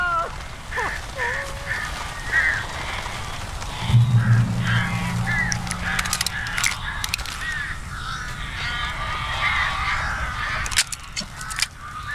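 Crows cawing in the Alan Wake Remastered video game, a scattered series of harsh calls over dark ambient game sound, with a low droning hum swelling partway through.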